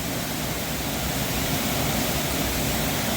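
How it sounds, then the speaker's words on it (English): Loud, steady rush of water at a deep waterfall on a river in St Elizabeth, Jamaica, a dense unbroken roar filling the whole clip with no voices. "So the water is very loud."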